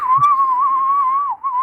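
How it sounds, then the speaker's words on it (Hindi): A single steady whistle tone is held for over a second, loud and close, wavering slightly in pitch before a brief dip and a short resumption, with no talking. "सीटी बजाई"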